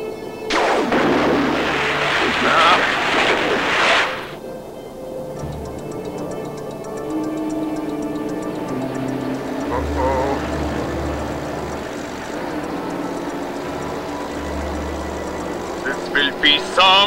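Cartoon tank firing its gun and then rolling forward, a loud blast burst at the start followed by a lower rumbling engine and clanking movement, with voices talking over parts of it.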